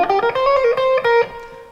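Electric guitar playing a quick sequence of pull-offs, a run of short, clear picked notes stepping up and down, close and alone with no talk.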